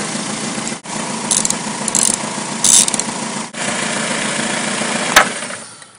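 A car engine with a bad alternator idles with a steady low rumble, then loses its even tone near the end and fades as it stalls, with brief clicks and rubbing noises along the way.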